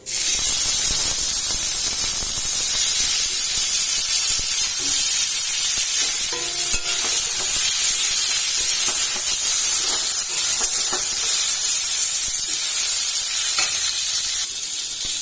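Cut mango pieces fry in oil left over from frying fish, giving a loud, continuous, hissing sizzle that holds steady for the whole stretch with faint clinks of stirring.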